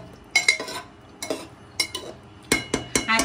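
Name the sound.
stirring chicken handi with fresh cream in a pot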